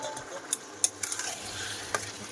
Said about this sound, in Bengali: এই যে দেখো মশলাটা খুব ভালো করে কষাই করেছে, এবারে আলু মাংস সব একসাথে দিয়ে দেবো।